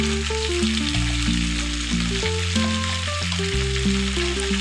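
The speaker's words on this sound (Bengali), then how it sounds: "এবার ভালো করে মশলাগুলো ভেজে নেব" Ginger paste and spices fry for a beef curry with a steady close sizzle, while a sustained tonal music-like hum runs underneath.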